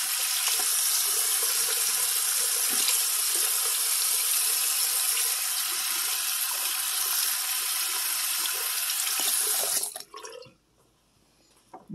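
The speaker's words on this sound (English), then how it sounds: "I'm going to wash my hands before I go into the kitchen." Water runs steadily from a sink tap as hands are washed, a loud continuous splashing rush lasting about ten seconds before it is turned off, leaving near silence.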